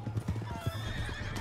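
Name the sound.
horse galloping and neighing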